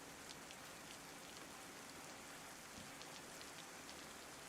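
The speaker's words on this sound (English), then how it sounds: "Ah, it sure sounds like rain" Steady rain falling in the video game DayZ, a dense continuous hiss of drops on surfaces with faint crackling patter, even and fairly loud throughout with no voices.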